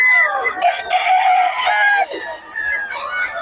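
Several roosters crow close by in overlapping, drawn-out calls at a Filipino gamefowl yard, with clucking from other fowl and brief voices in the background.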